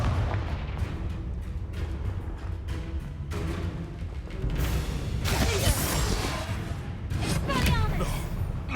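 Blasting-spell explosions and magical combat from Hogwarts Legacy, with repeated booming bursts and crackling impacts throughout, layered under shouted battle voices.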